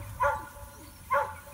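A cow dog gives two sharp, loud barks about a second apart over quiet outdoor background noise.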